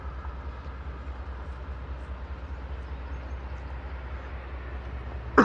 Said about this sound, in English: I wonder if I'll get the whole train in.